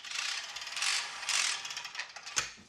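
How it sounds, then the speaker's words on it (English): A rinseless hose reel in a home garage wash bay ratchets in short bursts of close mechanical clicking, several quick runs separated by brief pauses. "and all conveniently up here on a hose reel"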